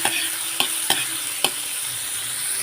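Garlic and onion frying in a pan for ginisang monggo, a steady close sizzle broken by three or four sharp stirring scrapes, with no talk.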